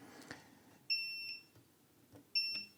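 Multimeter continuity tester beeping while probing capacitors on a PS5 board, two short clear electronic tones about a second and a half apart, fairly faint over quiet background clicks and handling noise.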